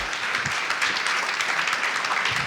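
An education-week audience at the University of Guayaquil claps steadily to welcome speaker Lorenzo Ceballos, a brief, even burst of applause heard alone.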